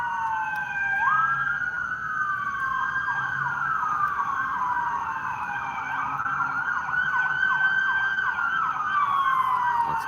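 Wailing emergency siren from an ambulance or fire truck echoing through a valley, its rising and falling sweeps repeating steadily over about ten seconds, loud and reverberant with no one speaking.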